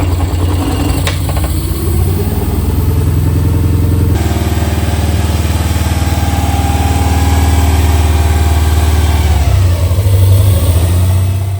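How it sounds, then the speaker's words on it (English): A Toyota engine runs steadily at raised revs, a loud, continuous mechanical drone with a brief shift in pitch partway through and a slight rise near the end. "when you got the revs up a little higher, the engine did run pretty smoothly"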